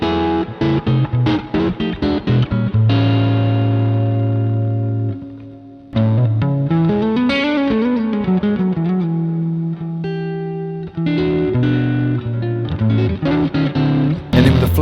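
Heavily distorted electric guitar through an overdrive distortion pedal, playing chords and riffs, thick and saturated, with brief pauses between phrases.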